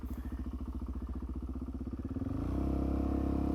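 A motorcycle engine runs at a steady, pulsing low rumble while the clutch is feathered, then its revs rise into a louder, smoother, sustained tone. The engine is close and no one speaks.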